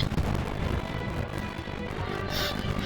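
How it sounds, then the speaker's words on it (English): Airstrike explosions in the Totally Accurate Battle Simulator video game make a dense, continuous barrage of booms and blasts. It stays loud and steady throughout with no pauses. "Explosions everywhere. Oh no, guys, there was an airstrike."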